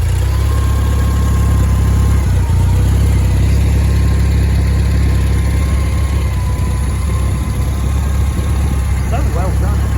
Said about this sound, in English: that is the quietest engine I've ever heard